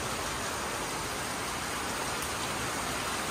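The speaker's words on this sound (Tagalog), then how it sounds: "Makikita niyo po ang lakas ng ulan." Heavy rain pouring steadily outdoors as a storm approaches, a loud, unbroken wash of hiss with no talking heard.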